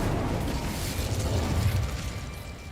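An Incendio fire spell bursts in the game Hogwarts Legacy with a muffled, rumbling whoosh that sustains over steady ambient game noise at moderate loudness.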